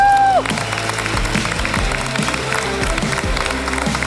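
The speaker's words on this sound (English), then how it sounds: "Give one more time the biggest round of applause" Loud, dense applause and cheering from the crowd at a startup pitch competition grand final, following a brief musical sting at the start and continuing steadily throughout.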